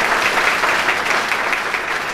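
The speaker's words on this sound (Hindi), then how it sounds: "एक बार फिर से सर के लिए ताली।" Audience applause at a book release ceremony, a dense steady clatter of many clapping hands filling the room throughout, loud and continuous.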